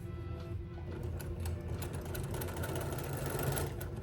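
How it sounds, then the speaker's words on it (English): A sewing machine runs steadily for about four seconds, stitching a binding strip onto a quilt corner to corner, a close, even mechanical whir with a rapid needle rhythm and no talking. "we're gonna sew from this corner to this corner"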